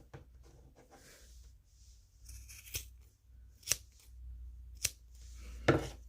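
Scissors snipping tassel yarn ends, a few crisp separate cuts spaced about a second apart, close and clear against a quiet background.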